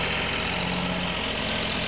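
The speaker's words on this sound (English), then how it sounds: "we are dragging the thing out here with the little tractor" A small John Deere tractor's engine idles and chugs steadily beside a pond, a continuous low rumbling putter with a regular pulse, close and fairly loud, no talking over it.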